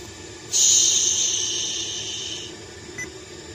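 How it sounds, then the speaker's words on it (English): Radio tuner static from an aftermarket Atoto head unit installed in a 2007 Toyota Yaris: a sudden loud hiss starts, holds steady for about two seconds, then fades into a low background hum, with a brief faint blip afterward. "I got some static so I can test something."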